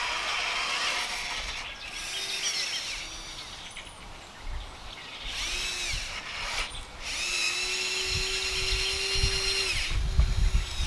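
An electric RC front loader with electric rather than hydraulic actuators runs in bursts of high whining motor noise, rising and stopping repeatedly, close and fairly loud against a steady outdoor background.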